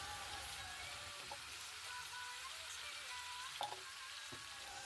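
Spices and vegetables frying in a pan, a Bengali cauliflower and potato curry with cumin powder, turmeric and salt, give a steady close sizzle with a few brief scraping stirs near the end.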